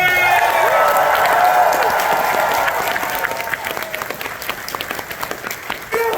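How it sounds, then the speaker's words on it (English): A large crowd at a convention panel for Mario voice actor Charles Martinet applauds loudly with scattered cheers and whistles, the clapping dense at first and thinning slightly toward the end. "Make some noise for one of the coolest brothers of all time, Mr. Charles Martinet!"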